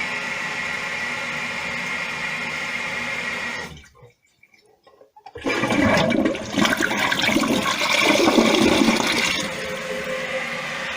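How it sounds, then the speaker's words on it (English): A steady rush of water gives way to a brief lull, then a dual flush toilet's large flush surges and gurgles loudly for several seconds before easing off. "once it's full, we're going to do the large flush"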